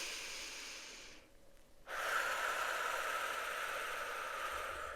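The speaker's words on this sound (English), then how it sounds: "Take a deep breath in." A slow, deep breath is drawn in during a calm guided meditation. It is soft airy breathing over a faint hiss, stopping briefly before a steadier airy sound continues.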